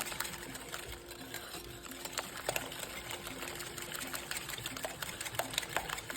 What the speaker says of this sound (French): Vous pouvez utiliser un batteur à main.